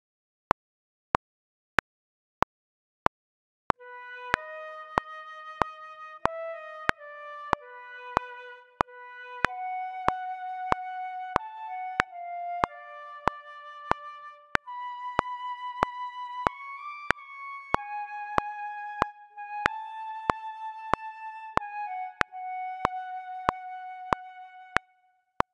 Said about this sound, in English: Let me shut the metronome off for now.